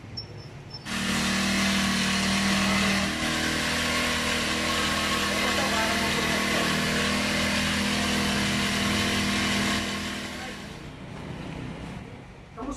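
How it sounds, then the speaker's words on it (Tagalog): A NAPSA 4-stroke engine with an extra chain and water pump attachment starts up and runs at a steady, loud drone for about ten seconds before winding down. "ito po yung NAPSA 4 stroke extra chain at water pump attachment"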